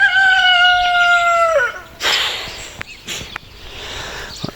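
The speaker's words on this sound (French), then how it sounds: "Ouais, petit coq" A rooster gives one loud, close crow with a long drawn-out call, followed by a few sharp clucks and rustling sounds outdoors, with no talking.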